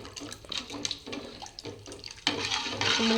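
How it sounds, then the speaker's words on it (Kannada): Water runs and splashes into a cooking pot of buttermilk sambar, a continuous close gurgling stream with faint clinks, growing fuller toward the end. "ಸ್ವಲ್ಪ ಚೂರು ನೀರು ಹಾಕೊಂಡ್ರಿ."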